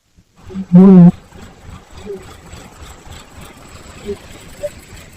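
A farm tractor engine rumbles at a steady low idle, opening with a loud, rough roaring burst that settles into a continuous mid-level chug, close by, with faint voices in the background.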